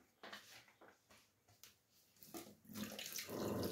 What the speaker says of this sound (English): You wash your hands.